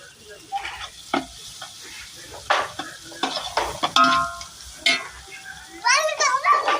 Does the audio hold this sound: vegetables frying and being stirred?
yes